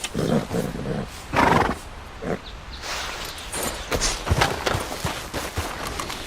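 A Mahogany Bay Tennessee Walker horse in a video game whinnies and snorts in several loud, agitated bursts, with a few softer sounds of movement between the calls.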